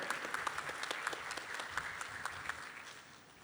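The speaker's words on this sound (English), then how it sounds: "Let's give another round of applause" Faint, steady applause from a crowd at a graduation ceremony, a dense patter of many hands clapping that carries on throughout.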